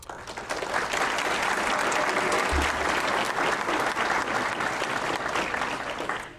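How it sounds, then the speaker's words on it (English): Sustained applause from a crowd at a school board meeting, steady and full throughout, with no voices standing out. "I applaud you."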